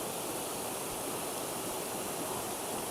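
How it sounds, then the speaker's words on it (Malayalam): A waterfall at Vadattupara pours in a steady, dense, full roar of rushing water with no breaks, loud and continuous. "ഇതാണ് നമ്മുടെ വാട്ടർഫാൾസ്"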